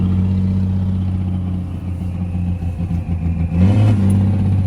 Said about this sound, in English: Those injectors are really, really lopey